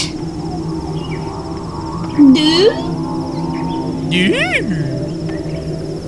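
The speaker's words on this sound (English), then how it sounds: "That's the official sound of Electro Squid" Electro Squid creature from the game Myst III Exile giving two warbling, swooping calls that rise and fall in pitch over a steady ambient hum, with a brief spoken voice.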